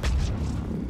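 A single grenade explosion in Mass Effect 3 multiplayer, a loud, deep boom bursting at once and then rumbling away over under a second of game noise.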